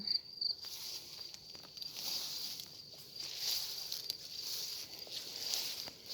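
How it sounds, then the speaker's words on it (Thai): Crickets chirp steadily in a grassy backyard garden, a dense, continuous high trill with small fluctuations, moderately loud and near, with faint rustles underneath and no talking. "ตอนนี้ก็ฟังเสียงจิ้งหรีดไปด้วยนะคะ"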